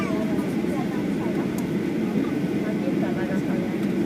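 An airplane about to take off on the runway, heard from inside the cabin as a steady, loud, broad engine roar and rumble, with a voice talking over it.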